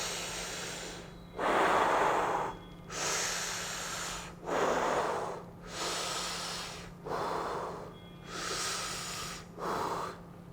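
Slow, heavy breathing while lying on a workout bench, long loud breaths alternating with brief pauses, about six cycles, close to the microphone and with no talking.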